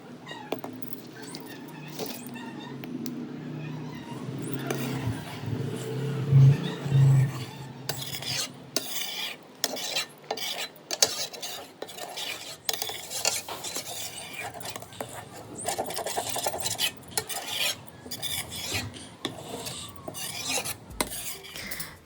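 Milk stirred continuously in a pot on a clay stove in a mud kitchen while cooking down mawa, steady rasping scrapes and clinks of the ladle repeating through the stretch, close, with a cat meowing briefly.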